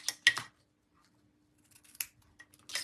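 Scissors snip through ribbon in a few quick, quiet cuts, a cluster of crisp snips at the start followed by fainter clicks and a final short cut near the end.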